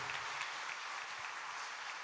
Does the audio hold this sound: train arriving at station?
no